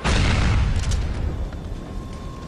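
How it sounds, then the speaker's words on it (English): A heavy rocket launcher explosion in a GTA video game, a loud booming blast with a deep rumbling decay that fades over a couple of seconds. "I just shoot the hell out of him with my rocket launchers"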